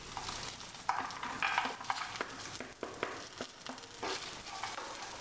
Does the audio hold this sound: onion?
yes